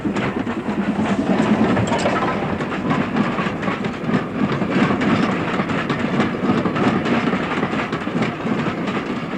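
Steam train on the West Highland Railway working hard with a good head of steam, its wheels and carriages rattling in steady clickety-clack with a faint hiss, loud and continuous close by.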